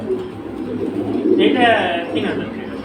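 Pigeons coo at a pigeon market selling silver and high-flying breeds, a soft burbling call rising mid-clip over a steady crowd murmur and nearby talk.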